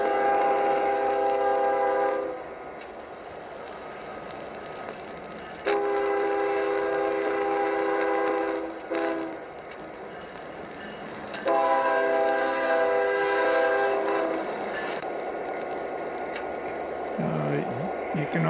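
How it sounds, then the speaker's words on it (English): Sound boxcar on a model train playing a railroad crossing horn sequence: long loud horn blasts, a short one, then another long blast, over a constant low engine rumble. "I also have a horn sequence that if you were approaching a crossing"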